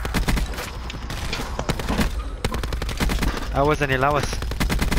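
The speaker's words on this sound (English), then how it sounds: "they're shooting me from firing range" Loud video game gunfire, rapid bursts and repeated shots crowding together, with a player talking excitedly over the shooting.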